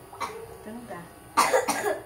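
Person coughing indoors, two or three short harsh bursts up close, the last pair louder and close together.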